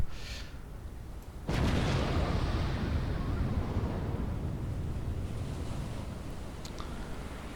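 Battleship artillery fires in the naval game Battleship Command: a single heavy boom near the start, followed by a long, rumbling roar that slowly fades while a soft background hiss continues.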